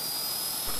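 A model jet plane's Sofia 850 turbine engine runs steadily, giving a loud, high-pitched whining roar with no pauses and no speech over it.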